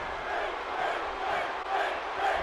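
A dense, roaring arena crowd cheers continuously at a simulated WWE Survivor Series tag-team wrestling match in the WWE 2K18 video game, swelling in waves with no distinct voices standing out.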